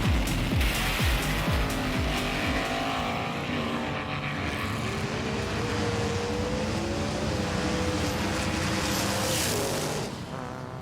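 Small-scale race cars, a Lancer Evolution and a white Cadillac weighing 118 grams, whine past in a drag race, a continuous high-pitched motor buzz with rising and falling tones that stays loud throughout, ending in a brief fade.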